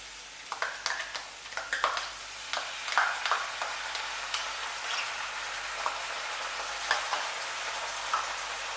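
Steady crackling sizzle of vegetable dum pulao in a pan as sour yogurt goes in over a very low flame, with scattered soft stirring scrapes and pops close by, no voices.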